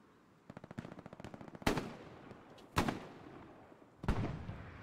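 Bursts of video-game machine-gun fire rain down from above, a rapid rattling string followed by three sharp, loud blasts spaced about a second apart, each with a short crackling tail.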